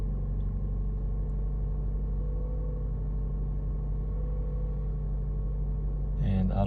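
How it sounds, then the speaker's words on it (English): A car engine idles steadily just after being started following an AWD system repair, a constant low rumble throughout with a slight rise in noise near the end. "And we started the car, as you can see,"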